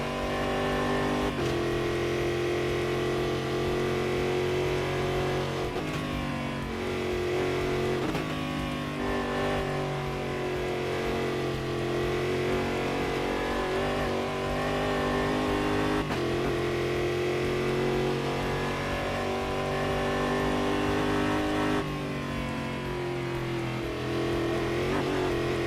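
M1 Procar engines racing at Road Atlanta in a racing video game: loud, continuous, high-revving engine drone with pitch sweeps through gear changes and passing cars, alone without talk.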